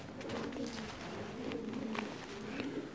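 A pigeon being held in the hand coos in soft, low, repeated murmurs at close range, steady throughout.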